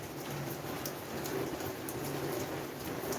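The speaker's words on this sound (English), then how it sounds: "The rain is back." Steady rain falls continuously outdoors on a vegetable garden, a soft, even patter with occasional sharper drops and no talking.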